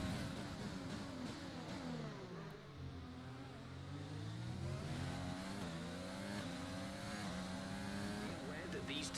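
Open-wheel race car engines in a racing video game scream and rise in pitch through the gears as cars overtake, a steady loud drone with a commentator talking over it.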